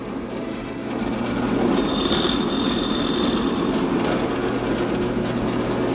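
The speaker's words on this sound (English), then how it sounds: "so the drill doesn't get caught in your wood or tears it." Power drill boring an entry hole through wood for an internal scroll saw cut, starting with a lower hum then a steady high whirring grind with a brief squeal, close and fairly loud, no speech.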